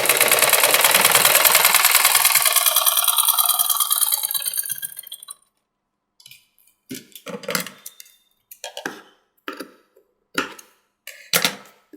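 A sewing machine stitches a strip onto a princess cut blouse: about five seconds of continuous whirring that slows and fades, then short separate bursts of stitching with pauses between them.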